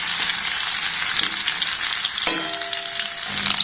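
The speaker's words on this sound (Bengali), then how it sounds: "গ্যাসের ফ্লেমটাকে লো রেখে আমটাকে একটু নাড়াচাড়া করে ভেজে নিয়েছি।" Raw mango pieces for pickle fry on a low flame with a continuous, even sizzle, with light stirring scrapes and a faint steady tone entering midway.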